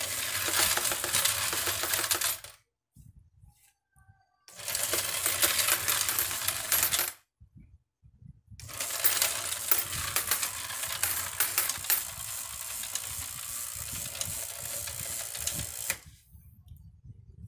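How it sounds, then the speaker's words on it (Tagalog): Coins pour and clatter into the hopper of a smart coin counter in three long, loud bursts of dense metallic jingling, separated by brief near-silent pauses. "kailangan ubusin mo muna ang barya sa hopper para mailipat mo para makapagpalit ka ng coins"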